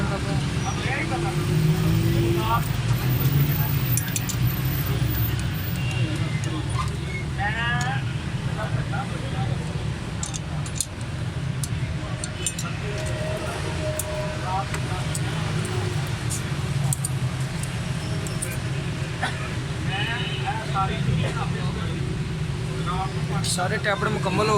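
A Suzuki Cultus EFI car idles steadily with its engine running, a constant low rumble close by, while someone talks over it throughout.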